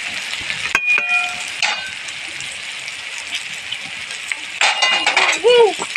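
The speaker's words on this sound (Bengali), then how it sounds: "আবারও নেড়ে দেবো।" A spoon stirs fish roe with chili powder and black pepper powder in a cooking pan, giving a few sharp metallic clinks and soft scraping, and a person talks over it.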